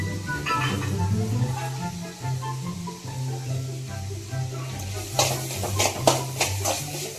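Chicken and potato cutlet mixture sautéed and stirred in a pan, a soft continuous sizzle with intermittent scraping and clinking bursts near the end, under a low steady hum.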